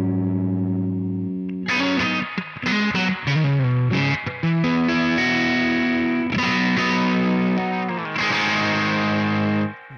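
An electric guitar runs through an AMPWORX amp model cranked to a crunchy, overdriven distortion, playing loud sustained chords and quick riffs with some reverb, with no talking.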